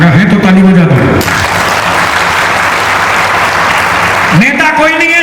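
An audience at a poetry gathering breaks into loud, sustained clapping that fills the middle of the clip, with a voice speaking before and after it.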